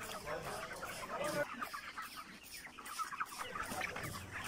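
Broiler chickens, five hundred 29-day-old birds on a poultry farm, keep up a dense, continuous chorus of clucking and chatter that fills the whole stretch at moderate loudness.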